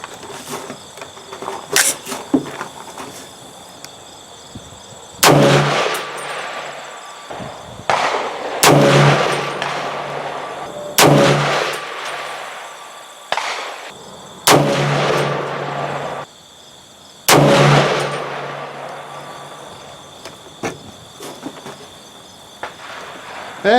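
Sharp, loud rifle shots from a 300 Blackout firing a handload of 21.5 grains of Lil Gun, several distinct cracks spaced a few seconds apart outdoors, each with a decaying echo over steady insect chirping.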